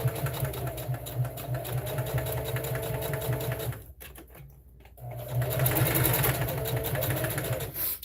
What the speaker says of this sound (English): I'm going backwards and I'm sewing over again.